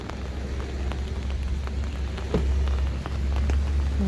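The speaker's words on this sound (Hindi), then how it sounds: "ये देखें कैसे बारिश हो रही है।" Steady rain pours outdoors, a dense hiss of drops striking surfaces close by, with a few louder splatters and a low rumble beneath, and no voices.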